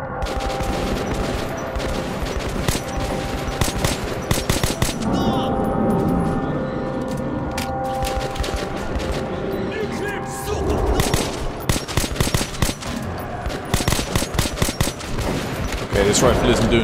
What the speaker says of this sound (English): This rifle isn't doing too bad at range